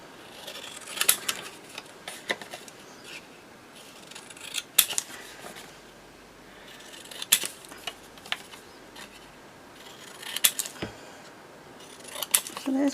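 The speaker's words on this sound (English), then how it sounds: "I'm just going to trim them down a little bit more." Scissors trim paper images for faux vintage cabinet cards, giving quiet, sparse snips and crisp paper rustles spaced out over a soft background.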